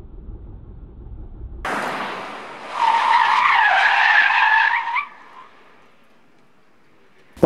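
Tires of a smart #1 BRABUS car squeal and skid loudly through a slalom on a test track, a sharp sustained screech that swells for a couple of seconds and then fades away.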